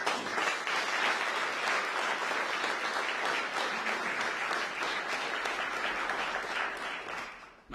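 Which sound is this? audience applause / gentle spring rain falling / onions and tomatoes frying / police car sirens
audience applause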